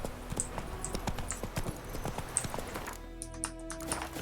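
Hooves of the horse in The Witcher 3: Wild Hunt clopping in a steady rhythmic gait, close and moderately loud, with a faint whinny-like sound and a change in ambience near the end.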